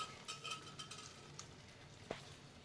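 Boiled chickpea water is poured into a frying, spiced masala, giving a faint sizzle and bubbling hiss with a few light utensil clinks and a brief sharp tap near the end, heard without talk.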